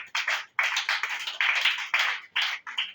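A church congregation claps in loud bursts of quick hand claps, a brief pause between groups, close and filling the room, with no voices.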